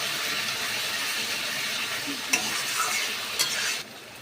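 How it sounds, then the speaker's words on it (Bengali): Spice paste with chilli powder frying in a pan, a steady broadband sizzle with a few sharp spatula scrapes and clicks near the end, close and loud, no talking. "মশলাটা আমি খুব ভালো করে কষিয়ে নেব যতক্ষণ না মশলাটা থেকে তেল ছাড়ছে।"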